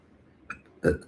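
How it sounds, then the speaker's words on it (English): A brief soft catch is followed by one fuller, low burp, close and fairly loud against near silence. "I'm burping."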